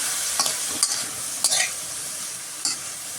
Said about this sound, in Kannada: ಟೊಮೊಟೊ ಹಾಕಿ ನಾನು ಮಿಕ್ಸ್ ಮಾಡ್ಕೊಳ್ತಾ ಇದ್ದೀನಿ.